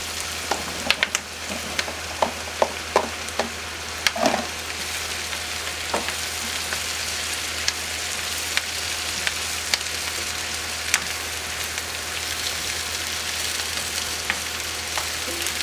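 Onions and mushrooms frying in a pan for a Marsala sauce, a continuous close sizzle with scattered sharp pops and spatters early on, no voices.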